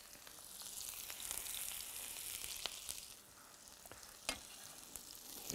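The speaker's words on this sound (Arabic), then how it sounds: "الزيت سخن، هحط البصل وهحط معاه الجزر على طول علشان اكسب وقت" Onion and carrot frying in hot oil give a continuous bright crackling hiss, with a few louder pops and spatters breaking through, close and unaccompanied by speech.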